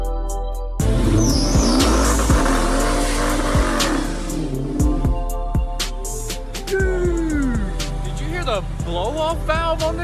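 A modified cop car does a burnout, its engine revving hard and wailing up and down over a steady roar, with tire squeal and sharp pops. It is loud and close, and voices come through underneath.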